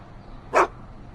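A single short bark from Einstein, Doc's dog, in the Back to the Future video game, close and fairly loud against quiet background hum, with the start of another sound at the very end.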